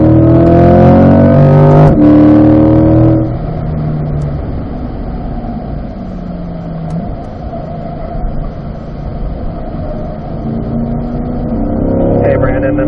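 Race car on a track accelerating out of a corner at Spring Mountain, a loud engine drone rising in pitch up front, then settling into a quieter steady cabin roar before building again near the end.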